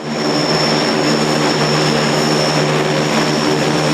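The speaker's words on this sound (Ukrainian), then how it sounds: "Військовий Ан-26 з вантажем 200 прибув на Чернівецьке литовище близько п'ятої вечора." Antonov An-26 military transport aircraft arriving at an airfield, its propeller engines producing a loud, steady droning roar with a constant high whine, close and continuous with no voices.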